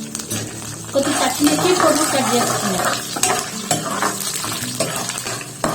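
Urad dal, chana dal, peanuts and green chilies crackle in hot oil for a Sri Rama Navami prasadam while a spoon scrapes and stirs them repeatedly, close and fairly loud.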